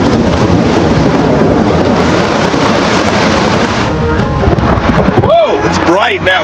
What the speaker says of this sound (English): Now the wind is going.